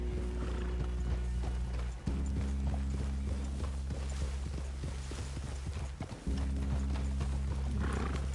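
Steady rhythmic hoofbeats of a horse in Red Dead Redemption 2 clip-clop throughout over a low droning hum, with a brief pause in the middle and faint snorting near the end.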